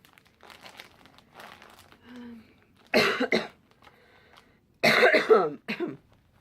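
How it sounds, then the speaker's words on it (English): Two harsh bursts of coughing, close and loud, separated by quiet pauses, with faint crinkling and a brief murmur beforehand. "Sorry for all the coughing."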